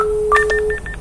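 An Inrico T-710A radio gives a short push-to-talk key-up tone: a steady beep joined by a quick run of higher chirping blips that pulse several times before cutting off, close and clear with no talking.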